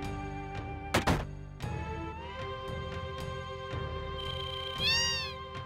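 Cartoonish cat meows from the video game Final Fantasy VII, several short mews with rising pitched cries, over a steady game music background loop.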